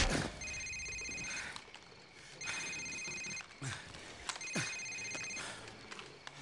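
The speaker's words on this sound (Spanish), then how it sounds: "Señor, este es su teléfono móvil." A mobile phone rings in the Call of Duty 4 video game, three bursts of trilling electronic ringing, each about a second long, heard faintly over a noisy game soundscape with muffled thuds.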